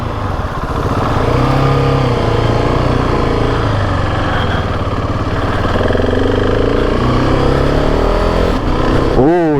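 A 2024 Ducati Hypermotard 698 Mono motorcycle runs with a steady, close engine throb and a quick rising rev near the end, while a person talks over it.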